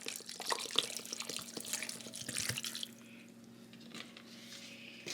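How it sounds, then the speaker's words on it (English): Distilled water pours into the water chamber of a CPAP machine, a close splashing trickle for a few seconds, then fading to a quiet drip and stillness. "So I'm just putting in water to my fill line."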